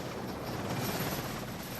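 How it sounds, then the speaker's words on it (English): A heavy Sea King anti-submarine helicopter flies close by, its rotor and turbine roar a steady, dense wash that holds loud and unbroken throughout. "hunting submarines in a heavy, rugged old warhorse of a Sea King helicopter"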